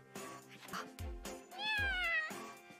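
In the anime-style game The Maid I Hired Recently Is Mysterious, a cat meows several times in quick succession, with one longer rising meow in the middle, clear and close over soft background music.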